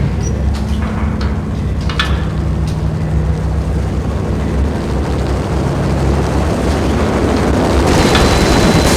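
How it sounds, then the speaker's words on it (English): A helicopter rumbles overhead in the Max Payne video game as a steady, loud, broadband drone that holds evenly throughout, with no voices over it. "The unmarked chopper was Horn's pet guardian, inhuman and flawless."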